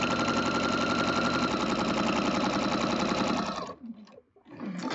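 A sewing machine stitches a quilt with a steady, fast mechanical whirring hum that runs continuously, then stops briefly and restarts near the end.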